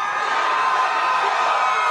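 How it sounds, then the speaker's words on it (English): A big political rally crowd cheers and whoops in a dense, continuous roar, loud and sustained with no single voice standing out. "So they're cheering to drown them out."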